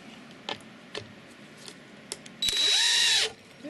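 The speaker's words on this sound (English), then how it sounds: "And we take the drill driver, turn it around the other way," A drill driver drives a screw into a wooden box. A short, loud, whining motor burst with a falling pitch follows a few faint clicks and taps.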